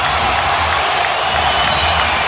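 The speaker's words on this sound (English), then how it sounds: "The crowd starting to celebrate." A basketball arena crowd roars in celebration late in a playoff overtime game, a loud, dense and unbroken wall of cheering that fills the whole moment.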